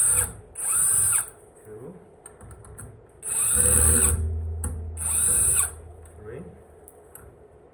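Electric screwdriver with a Phillips bit backing screws out of the foot pad on a Floatwheel ADV2 electric board: three close, loud whirring bursts with pauses between them, and a voice counting during the gaps.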